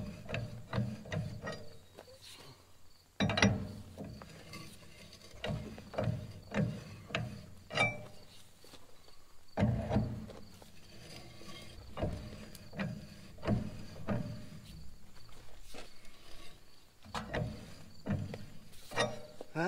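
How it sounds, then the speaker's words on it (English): New threads being cut by hand into an old wartime H manifold: rhythmic metallic ratcheting clicks in repeated bursts, close and fairly loud, with short pauses between strokes and no talk. "Let's continue cutting some threads."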